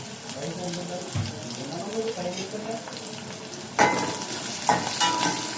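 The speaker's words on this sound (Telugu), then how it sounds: "ఇప్పుడు దీంట్లోకి కొద్దిగా కరివేపాకు వేస్తున్నాను" Curry leaves frying in hot oil in a pan with onion and green chilli, a steady close sizzle across the clip with a louder burst of spitting crackle partway through as the leaves hit the oil; no talk over it.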